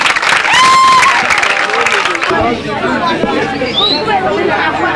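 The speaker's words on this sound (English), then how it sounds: "Put your hands together for yourselves" An audience at a gene awareness campaign event claps and chatters for about two seconds, then the applause fades into crowd murmur and voices talking.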